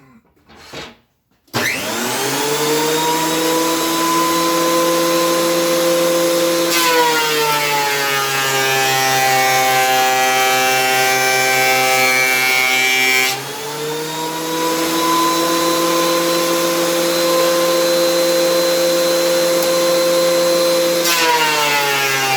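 Power planer cutting across an epoxy resin surface, a loud steady motor whine with dense tonal harmonics, starting abruptly after a brief quiet moment and running continuously with a pitch change midway.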